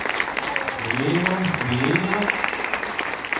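Loud audience applause fills the space with continuous clapping while a voice speaks briefly over it in the middle.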